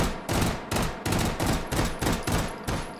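An M93R pistol fitted with a carbine stock fires in the VR game Hot Dogs, Horseshoes and Hand Grenades, with about seven loud, close, evenly spaced shots, each a sharp blast followed by a brief ringing decay.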